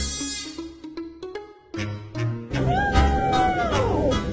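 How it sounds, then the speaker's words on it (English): A spoiled, insistent house cat meows for its dinner, several short close meows in a row and then a longer drawn-out yowl, loud and alone with light room noise behind. "He's meowing for his dinner."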